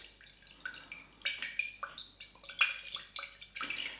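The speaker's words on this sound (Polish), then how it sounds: "Mieszam oczywiście do całkowitego rozpuszczenia" Salt being stirred into demineralized water in a small container for a home photographic print solution, giving light irregular clinks and watery drips, faint and close, with no talk.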